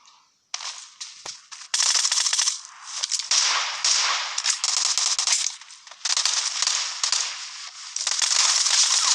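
Gunfire in the video game PUBG crackles in dense, loud bursts of rapid shots that run almost without pause for most of the stretch.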